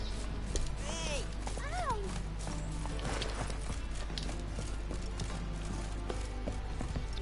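Horse hooves clip-clopping in The Witcher 3, a steady rhythmic trot under game music and a brief neigh near the start, while someone talks over it.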